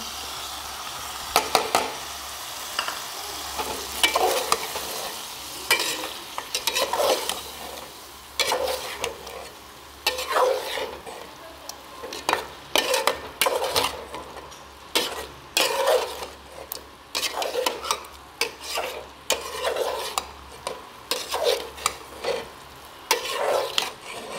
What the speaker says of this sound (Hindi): अब हम इसमें ऐड करेंगे टमाटर और बाकी चीज़ें